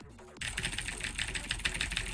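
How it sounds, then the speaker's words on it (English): Rapid, dense clatter of keys being typed very fast on a computer keyboard, starting abruptly after a brief quiet moment and continuing steadily, close and fairly loud. "if I were to type really fast on my keyboard"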